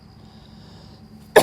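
A single sharp, close cough bursts out at the very end after a quiet stretch of faint background hum.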